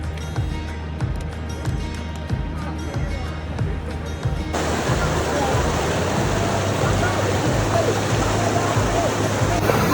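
A cold glacial meltwater river on the Hampta Pass trek rushes steadily in a loud, dense wash, growing fuller and louder halfway through, with faint rhythmic thumps underneath.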